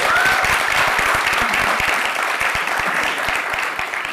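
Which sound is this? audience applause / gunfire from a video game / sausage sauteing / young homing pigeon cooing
audience applause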